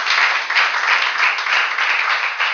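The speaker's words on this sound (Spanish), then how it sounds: "Bendecile con un fuerte aplauso a Dios si le estás creyendo" A church congregation claps loudly and continuously during a sermon, a dense wash of applause with slight swells in intensity.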